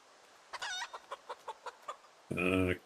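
Chickens in Project Zomboid clucking in a quick series of short calls, ending in a louder drawn-out squawk, clear and close with no talk.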